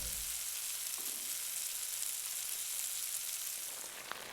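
Butter chicken masala with chicken simmers over a medium flame, a dense, even hiss of sizzling that holds steady throughout, with a faint clink near the end and no speech.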